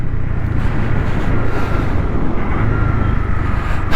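A Honda CB300R BS6 2022 motorcycle pulling smoothly in fourth gear on the road, a steady low engine drone blended with wind rush, close and continuous with no talking.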